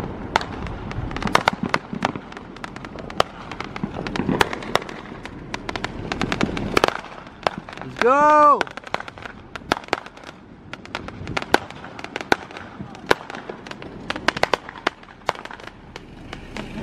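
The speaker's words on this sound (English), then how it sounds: "Olympic Royal, fireworks." Fireworks on Independence Day crack and pop again and again, some near, some farther off, with a rising whistle partway through. A brief shout is heard during the bangs.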